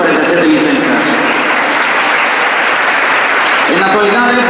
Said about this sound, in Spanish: sempre temos que dar un forte aplauso